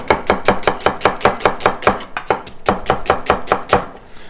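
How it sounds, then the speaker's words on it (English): A kitchen knife chops through an onion on a cutting board, giving a steady, fast run of crisp, close-up knocks with a short pause partway through. No voice is heard over it. "I'm going to take an onion, just quickly cut it in half."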